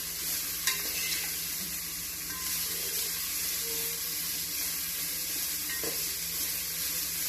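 Pasta with a little salt being stirred in a pan, a soft continuous sizzle with faint scraping of the spoon, fairly quiet and without voices.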